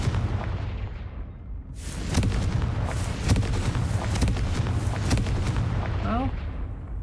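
Confringo fire spells in Hogwarts Legacy go off as a rapid series of sharp, booming blasts over several seconds, each punchy crack landing close and loud over a rumbling game soundscape.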